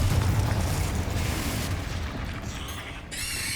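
Bombarda spell explosion in Hogwarts Legacy on PS5: a loud, sustained rumbling blast with rattling debris that slowly fades, then a bright ringing tone rises near the end.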